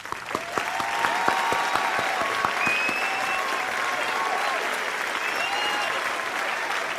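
Steady applause from a live audience at a student indie game pitch contest, a dense even patter of many hands clapping at moderate volume for several seconds, with a few sharper claps near the start.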